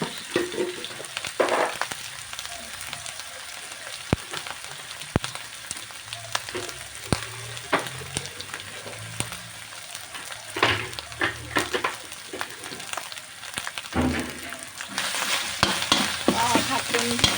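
Red curry paste stir-fried in a pan for a Thai water spinach and pork curry, a steady sizzle with repeated sharp scrapes and clacks of the spatula; close up with no voices.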